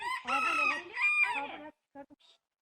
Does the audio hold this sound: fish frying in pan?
no